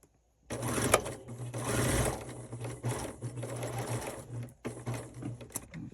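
A sewing machine runs in several steady bursts, stitching a diagonal line across quilt fabric, with a brief pause between runs.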